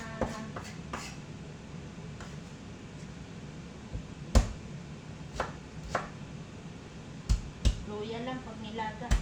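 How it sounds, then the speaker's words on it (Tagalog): Ginger being crushed for a pork bone soup in a home kitchen, sharp, scattered knocks and thuds on a board, close and moderately loud, with a voice talking underneath. "Pitpitin natin ang ating loya."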